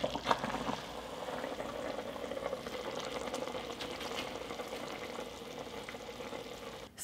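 Meat stew simmers in a pot during a long, slow braise. A soft, steady bubbling plays quietly throughout, low in level and unbroken, with no voices.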